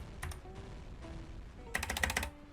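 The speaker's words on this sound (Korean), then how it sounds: "키보드 소리 이건데" Keyboard typing sounds from the video game Zombie High School: a short burst of clicks, a sparse stretch, then a dense rapid flurry of keystrokes near the end, fairly close, with no talk.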